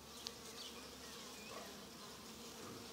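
A honeybee swarm hanging on a tree branch outdoors, a steady close dense buzzing with no voices.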